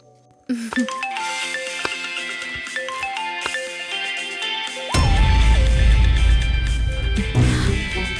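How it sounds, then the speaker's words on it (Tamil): A mobile phone rings indoors with a repeating melodic ringtone, clear and fairly close, then a louder burst of dramatic background sound swells over it near the end. "ஆபீஸ்ல இருந்து ஃபோன் பண்றாங்க இலக்கியா."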